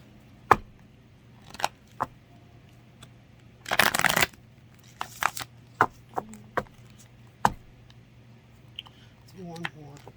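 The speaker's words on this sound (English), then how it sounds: "My shuffle wasn't the best that time." Tarot cards being shuffled by hand, heard up close as scattered slaps and riffles with one dense burst partway through, plus soft taps and faint mouth sounds in a quiet room.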